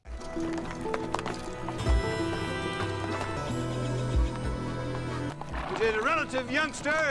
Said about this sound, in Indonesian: mereka pun mengawali perjalanan dengan menggunakan mule, yang merupakan binatang hasil perselingkuhan antara kuda dan keledai